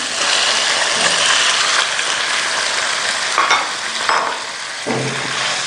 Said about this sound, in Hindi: 2 से 3 खाने के चम्मच हमने ऑयल डाल के इसमें लहसुन डालना है।